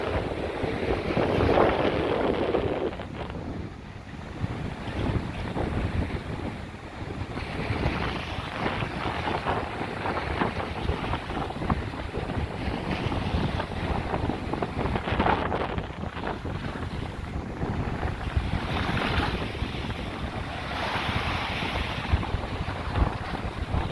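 Sea waves and strong wind buffet the microphone on the Blackpool seafront, a continuous loud rushing roar with surging wash and gusts throughout, with no talking.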